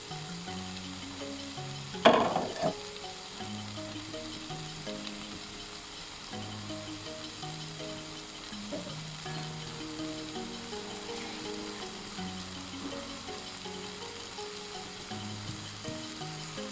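Chicken curry sizzles and fries steadily in a pan after water is poured in, giving a brief louder splash of bubbling near the start and then a continuous soft crackling simmer, close up and alone.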